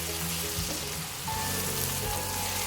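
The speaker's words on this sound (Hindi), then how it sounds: "और प्याज को आपने स्लाइटली ब्राउन करना है।" Sliced onions and cumin seeds fry in a pan, giving a steady, close sizzle and crackle that holds evenly through the whole short stretch with no voices.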